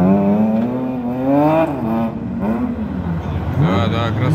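A car drifts at a drag racing event in Estonia, its engine revving and wavering loudly through the clip while excited spectators talk over it nearby.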